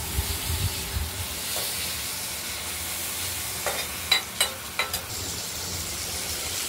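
Potatoes frying in oil for a katla fish curry, a steady broadband sizzle with a few sharp clinks of stirring near the end; no one speaks.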